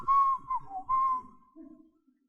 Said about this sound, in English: What if I whistle?